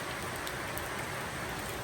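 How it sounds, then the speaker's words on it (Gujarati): Heavy monsoon downpour in a Gujarat village during the month of Shravan makes a dense, unbroken hiss of rain drumming close by on surfaces, with no voices. "કેવો વરસાદ જામ્યો છે"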